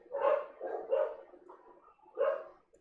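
A dog barks three times, fairly close and clear, with short gruff woofs spaced about a second apart and quiet pauses between.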